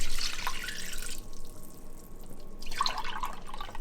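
Chicken broth is poured into a pot, a steady liquid splash and trickle with a few drips, close and moderately loud.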